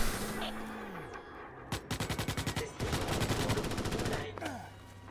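Gunfire in Starship Troopers: Extermination: rapid machine-gun bursts in quick rhythmic volleys, loud and close, mixed with whooshing sci-fi tones and shouted talk underneath.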